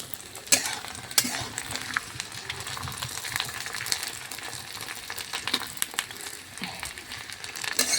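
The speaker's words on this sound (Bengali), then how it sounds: "চলো পাঁপড় কটা ভেজে নিই" Papad (poppadoms) frying in hot oil give a steady, close crackling sizzle, broken by a few sharper clinks and pops throughout.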